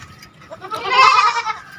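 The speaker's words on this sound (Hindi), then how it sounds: "जनाब ये मेरे पास एक अदद बीतल बकरी है" A full-size Beetal goat, a dairy doe that kidded triplets two months earlier, gives one loud, close bleat lasting about a second.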